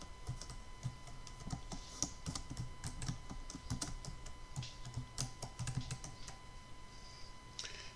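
Keys clattering on a computer keyboard while entering text into an Excel spreadsheet, a quick uneven run of crisp clicks, close and fairly quiet, with no talking.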